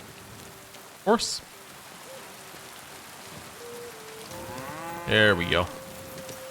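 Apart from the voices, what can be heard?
heavy rain, Kingdom Come: Deliverance II video game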